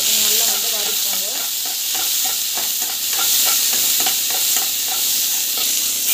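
Onions fry in a pan for mango rice, a loud, even sizzle layered with rhythmic scraping and stirring strokes from a utensil throughout.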